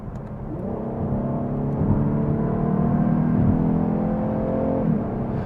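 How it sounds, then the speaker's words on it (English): A 2023 Lexus IS 350 rear-wheel-drive sport sedan with the 2GR engine pulls hard under acceleration, its loud, steady engine drone climbing in pitch for several seconds from inside the car, with no voices. "The 2GR is a really good sounding engine"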